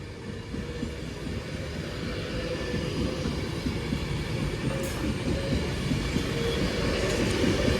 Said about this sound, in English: Got a 323 preparing to terminate from Manchester Piccadilly.